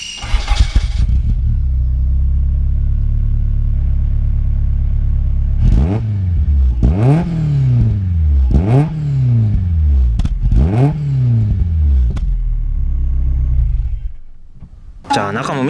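Toyota AE86 with an aftermarket exhaust widened from 50 to 60 mm pipe, idling with a deep burbling rumble, then blipped four times in sharp rising-and-falling revs, loud and close.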